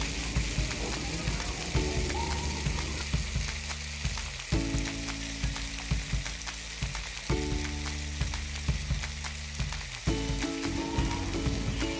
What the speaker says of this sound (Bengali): এবার একটি কড়াইতে সামান্য তেল দিয়ে এতে কয়েকটি শুকনো মরিচ দিয়ে ভালোভাবে তেলে নিতে হবে